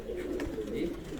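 Low, throaty cooing from pigeons kept at a home loft in Sargodha, a brief close murmur of overlapping birds.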